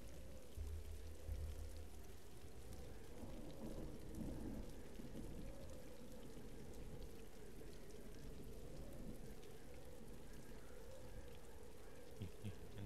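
Steady heavy rain with rolling thunder in a Tomb Raider Level Editor custom level, a dense continuous downpour with low rumbles, moderately quiet and unbroken.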